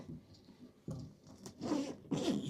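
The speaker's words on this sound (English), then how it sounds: "Zip this thing up." The zipper on a hard carry case for a Lokithor J1350 Pro 12V lithium jump starter is run closed in a few quick scratchy pulls, each stroke rougher and louder than the last, close up and quiet, with no talk.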